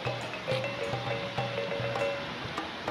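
River water of the Batang Agam in Padang Taro babbles with a soft, continuous wash, fairly faint, with some steady humming tones pulsing through it.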